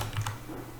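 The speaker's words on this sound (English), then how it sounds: "So I'm just typing in each one of these cells" A few quick keystrokes on a computer keyboard while entering text into spreadsheet cells, a short close burst of soft clicks with no voices.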